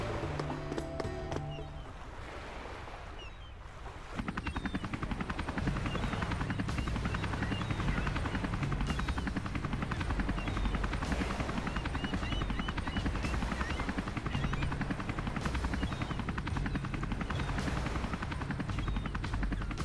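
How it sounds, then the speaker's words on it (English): A helicopter in the video game Final Fantasy VII gives a steady, loud rotor chop with a rhythmic thumping pulse. It starts after a brief quieter passage and continues without speech. "That's not how I fly my helicopters."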